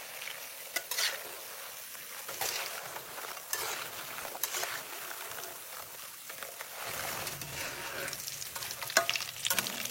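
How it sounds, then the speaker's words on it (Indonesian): Shallot chips deep-fry in hot oil with a steady crackling sizzle, while a utensil stirs them through the oil in repeated scraping, swishing strokes, close and fairly quiet, with no talking. "Aduk sesekali biar matangnya merata dan warnanya cantik keemasan. Goreng agak lamaan, sampai keripiknya jadi lebih garing,"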